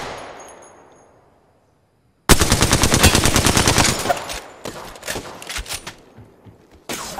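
Rapid automatic gunfire in Apex Legends erupts after a fading rumble, a loud close burst of fast repeated shots followed by shorter, sporadic volleys and a final sharp burst.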